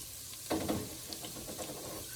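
Garlic simmering in a pan on the stove, a quiet, even sizzle with a brief louder stir near the start, close by and without any talking.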